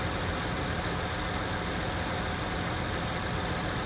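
A tractor engine in Farming Simulator 19 runs at a constant steady drone, loud and unbroken the whole time, with no talking over it.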